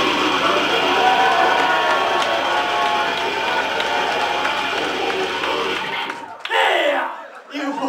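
Pub audience at The Riverside in Selby clapping and cheering loudly for a live band, a dense continuous roar of applause and shouts that suddenly cuts off, followed by scattered voices.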